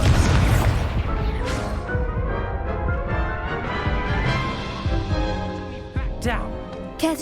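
A Confringo spell blast in Hogwarts Legacy, a loud booming explosion with crackling bursts and rumble, layered with game music and character voices talking, close and dense throughout.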